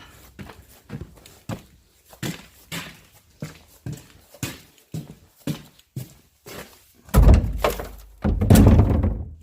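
Outdoors on a horse farm, a nasty old barrel is thrown into a recycle bin: a run of hollow knocks and thuds, then two louder, heavier crashes close by.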